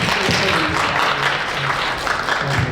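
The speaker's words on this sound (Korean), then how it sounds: "박수" Church congregation at a Korean-language university church service clapping in applause, a loud, continuous burst of many hands with some voices and chatter blending in underneath.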